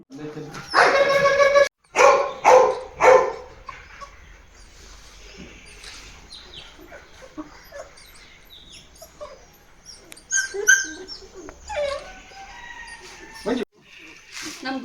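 Young Belgian Malinois puppies bred for police and army work bark in a burst of sharp yaps at the start, then yelp faintly and intermittently beneath someone speaking, with brief louder barks near the end.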